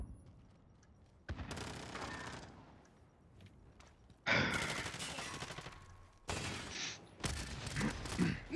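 Pistol gunfire in Modern Warfare Season 3, several bursts of rapid overlapping shots with quieter gaps between, loud and close.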